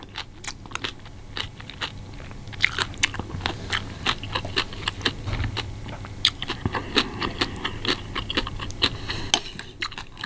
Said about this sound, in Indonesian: Punya kriuk-kriuk mie-nya.